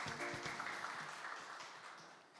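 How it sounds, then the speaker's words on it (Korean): Faint, distant applause from an audience at a startup forum investor-pitch session, welcoming the next presenter and gradually fading toward the end. "환영의 박수 부탁드립니다."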